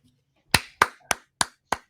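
A short applause sound effect on a baseball podcast: five sharp, dry hand claps, evenly spaced and close, with silence between them.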